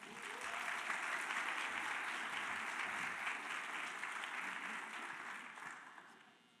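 Audience applause welcoming Dr. Crystal Lemmons at a Missouri Southern health sciences event: steady, full clapping from a large crowd, sustained for about six seconds before tapering off.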